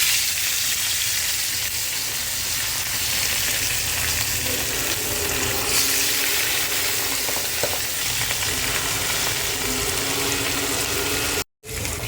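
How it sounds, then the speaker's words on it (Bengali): Rohu fish frying in hot oil makes a loud, dense, steady sizzle that runs unbroken and close, cutting out briefly near the end. "আমি এখন এটার মধ্যে মাছ দিয়ে দিচ্ছি"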